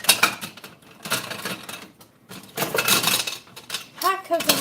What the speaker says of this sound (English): Let me get a little stir here.